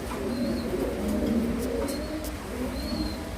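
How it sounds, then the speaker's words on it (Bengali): Mili racer pigeons cooing close by, low rolling coos repeating in soft overlapping phrases with a few faint chirps over a steady background. "খুবই সুন্দর কবুতর জোড়াটি"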